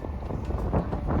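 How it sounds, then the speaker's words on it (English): Wind blows across the microphone at a park on a cold day, a low rumbling buffet that swells and churns steadily for about a second with no voices. "It's windy."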